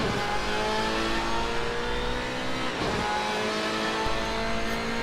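Race car engine roaring steadily in the Assetto Corsa video game on the Daytona road course, holding a loud, sustained high-pitched drone that rises with revs, with a brief dip mid-way as a gear change is fluffed.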